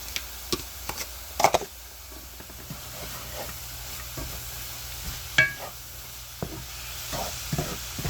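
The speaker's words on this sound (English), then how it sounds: "Fry that up for a few minutes, and I got some bacon here to throw on. Throw in the bacon." Bacon strips sizzle and fry in a pan during weekly meal prep, a steady quiet hiss with occasional stirring and scraping clicks, heard alone without talk.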